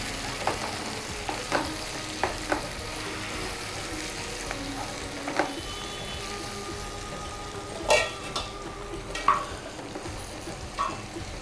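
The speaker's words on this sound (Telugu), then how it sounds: "టమాటా, అన్నీ వేసి ఇట్లా వేయించుకోవాలి." Tomatoes and spices stirred and frying in a pan for pepper chicken, a soft steady sizzle with scattered scraping and clinking of a spoon against the pan, close and moderately quiet.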